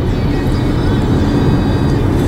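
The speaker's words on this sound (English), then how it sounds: "there's a plane taking off" A jet airliner taking off near a busy road in Tampa Bay, a steady broadband roar mixed with traffic rumble, loud and continuous throughout.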